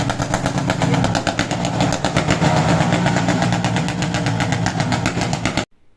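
A motorcycle engine runs steadily and loudly up close with a fast, even pulsing chug, then cuts off abruptly near the end.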